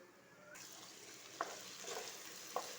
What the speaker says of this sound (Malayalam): നമ്മുടെ അരിഞ്ഞു വച്ചിരിക്കുന്ന സവാള ഇതിലോട്ടിടാം